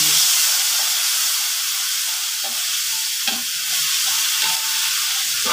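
Blended garlic, onion and ginger sizzling and hissing in a hot pan, with a few soft scrapes of stirring breaking through the steady fry.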